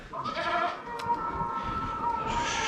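Goats bleat on a farm where sheep are being vaccinated, with several wavering, nasal calls overlapping in a steady chorus over livestock background noise.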